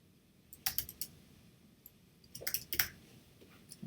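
Computer keyboard keys clicking in two short bursts of typing, close and fairly quiet over a faint background hiss.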